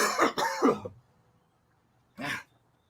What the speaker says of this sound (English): Feel a cough coming on.